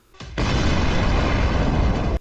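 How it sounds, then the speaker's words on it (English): An armored BMP infantry fighting vehicle explodes internally after an FPV drone strike, a loud, sustained roaring blast lasting nearly two seconds that cuts off abruptly, with no voices. "A precise hit triggers a huge internal explosion."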